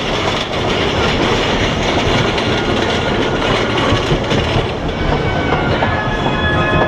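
A small amusement park ride train at Europa-Park rumbles along close by, wheels clattering over the rails with a steady, continuous noise and faint squeals.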